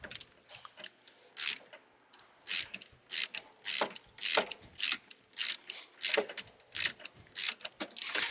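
Socket wrench ratcheting on AC parts of a 2005 Jeep Liberty, a quick run of sharp clicking bursts in uneven rhythm, close and fairly quiet, with no talking.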